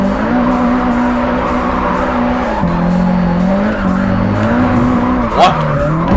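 A car drifts in Japanese Drift Master, its engine droning steadily while the tires squeal in long sustained screeches that shift pitch through the slide. The sound is loud and close, with a brief knock near the end.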